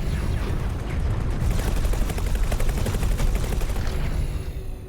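Turrets in a space capitalism video game fire continuously, a dense rattling barrage of rapid shots with booming undertones that runs throughout and fades slightly at the end, with no talk over it.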